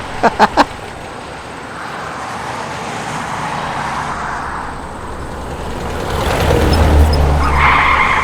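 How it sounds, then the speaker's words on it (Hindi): A car driven erratically skids, with a few sharp clicks at the start, then a rising roar of engine and road noise and a brief tire squeal near the end, loud and with no talking. "क्या कर रहे हो जय? गाड़ी ठीक से चलाओ ना।"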